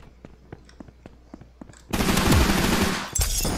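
Gunfire in the Roblox shooter Energy Assault: a string of sharp, scattered shots gives way to a loud, dense burst of rapid automatic fire that roars on to the end.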